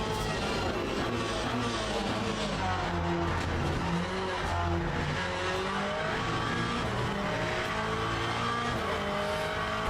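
Porsche race cars lapping Monza in the racing game Le Mans Ultimate, a steady loud engine drone with shifting pitch and occasional tire squeal, continuous for about ten seconds with no talk.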